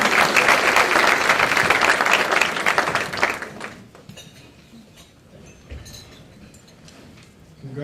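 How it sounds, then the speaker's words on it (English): Audience applause at a county youth awards dinner, loud and dense at first, then thinning into scattered claps with faint clinks of dishes and cutlery, swelling slightly again at the end. "It's okay to clap for Vincent."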